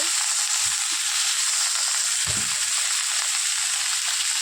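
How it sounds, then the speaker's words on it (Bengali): Vegetables frying in hot oil in a pan for a small-fish chorchori, giving a steady, close sizzle and hiss throughout with a few soft stirring knocks and no talking. "সবজিটাকে ভালো করে ভেজে নেব যাতে কাঁচা গন্ধটা না থাকে"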